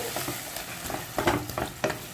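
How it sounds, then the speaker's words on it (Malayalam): Precooked beef being stirred and fried in a pan, with soft sizzling under a string of scraping stirs that get louder toward the end. "നമ്മളിതാ വേവിച്ച് വെച്ച ബീഫ് ഇതിലേക്ക് ഇട്ട് കൊടുത്തിട്ടുണ്ട്."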